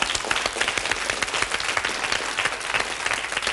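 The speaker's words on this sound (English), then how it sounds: "give them a round of applause" A 1983 British game show studio audience applauds for the contestants, a dense, steady wash of many hands clapping loudly and evenly throughout.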